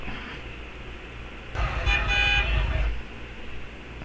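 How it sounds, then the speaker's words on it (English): A car horn sounds in one sustained blast of about a second and a half over a low rumble of road traffic, heard from a distance against a steady background hum. "You can see what a car horn sounds like."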